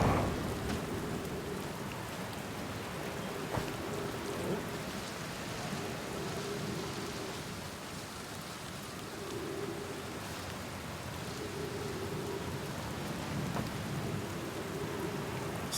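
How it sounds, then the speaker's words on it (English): Steady rain and a constant storm on a planet in the game Outer Wilds, with thunder rumbling beneath dense, hissing rainfall for the full stretch, even and moderately loud with no talk. "Kind of a gnarly storm going on this planet."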